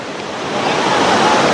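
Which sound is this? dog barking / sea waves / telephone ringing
sea waves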